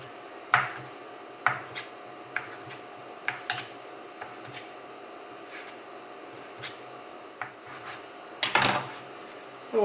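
A knife slicing rolled homemade chicken noodle dough as thin as possible on a board, a series of sharp separate chops and taps at an uneven pace, close up with no talking.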